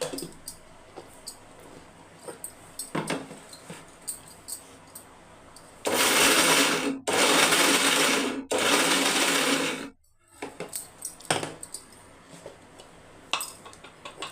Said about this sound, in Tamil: இதை அப்படியே பல்ஸில் வச்சு ஒரு ரெண்டு டைமு அரைச்சி எடுத்துக்கோங்க